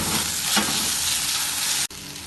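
Chopped tomatoes hit hot oil with ginger and garlic and are stirred in a pan, giving a loud, continuous sizzle close up with scraping stirs and one brief cut near the end.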